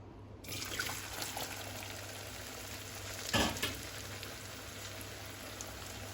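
Chunks of taro root (arbi) fry in hot oil with a steady close crackling sizzle, swelling briefly into a louder bubbling burst midway, no one speaking.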